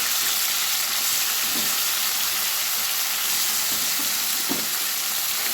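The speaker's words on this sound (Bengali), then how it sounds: "এবার আমি চিকেনগুলো ভেজে নেব" Chicken pieces frying in a little oil, a dense, loud, unbroken sizzle close by with a few faint stirring knocks beneath it, no voices.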